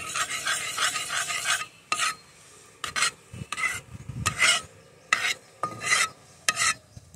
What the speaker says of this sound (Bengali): নাড়িয়ে দেবো একটু।